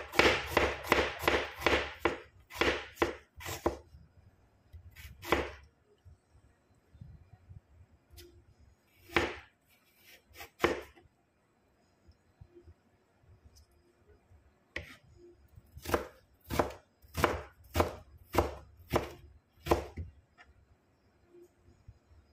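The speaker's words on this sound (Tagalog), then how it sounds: "Slice tayo ng luya." A knife slices ginger on a cutting board for a creamy milkfish with salted egg dish, giving bursts of quick, close, crisp chopping taps separated by pauses.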